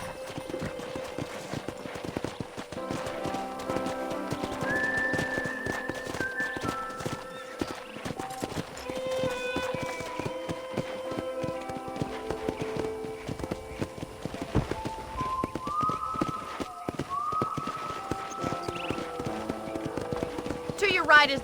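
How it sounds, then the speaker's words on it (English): Steady clip-clop of horse hooves in Red Dead Redemption over a continuous bed of game music, with an occasional whinny and talk mixed in. "let's see if you can still ride a horse"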